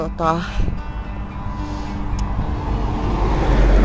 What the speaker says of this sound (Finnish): Tässä ajaa rekkoja tosi paljon.